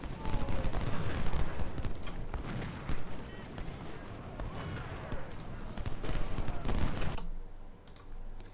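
Civil War musket volleys in Ultimate General Civil War crackle continuously as troops fire into an enemy flank, a dense, distant-sounding rattle of many shots with occasional sharper reports.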